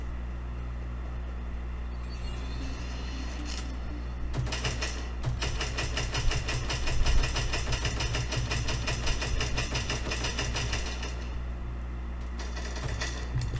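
A motorcycle engine in the video game Cyber Hunter drones at a steady low pitch, then breaks into a rapid, buzzing mechanical rattle that runs on for several seconds at moderate distance.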